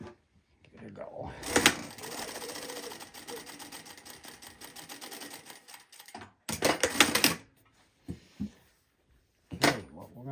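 A Bridgesew R6S sewing machine powers on and runs in short stitching bursts, a close rhythmic mechanical clatter starting and stopping several times with brief pauses between.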